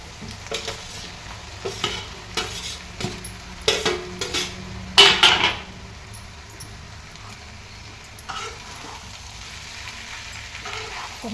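Boiled, peeled and chopped potatoes stir-fried in a pan over a high flame: spatula scrapes and clinks against the pan over a soft continuous sizzle, with a few sharper metallic knocks, no talking.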